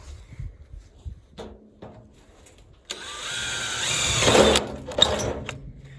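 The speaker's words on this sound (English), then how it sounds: "You'll need to drill 3 holes in the bottom of your big barrel" A power drill bores holes into the bottom of a big metal barrel being made into a charcoal kiln, a loud continuous whine starting about halfway through after quieter handling and knocks, close by.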